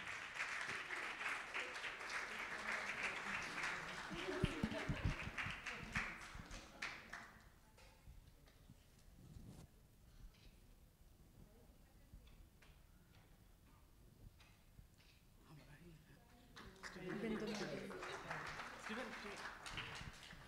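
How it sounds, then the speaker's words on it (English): Audience applause at an energy storage, electric mobility and green hydrogen event, a dense clapping crowd loud for the first several seconds, thinning to sparse claps, then swelling again near the end with some voices mixed in. "Let's give her a huge round of applause, ladies and gentlemen."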